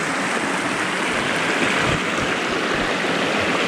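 Creek water flows around someone sitting in a chair in the stream on the Graham and Coal Creek Loop, a close, continuous babbling rush with no voices over it.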